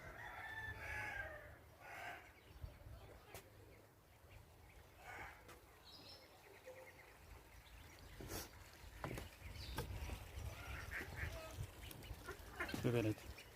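Ducks quacking in a bird garden in Qarshahir, with other fowl such as a rooster crowing; scattered calls at moderate distance over background noise, with a few faint voices.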